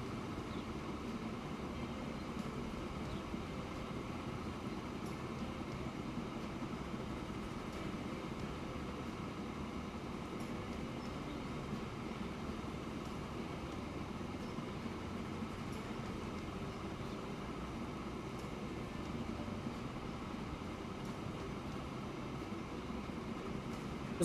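Continuous rail rumble of a fast train running on the railway in a railway video game, a steady low drone with no change in level and no voices.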